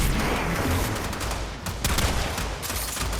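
Rapid bursts of automatic gunfire from a gun in the video game Warframe, with dense, continuous shots over a few seconds, loud and close with no talking.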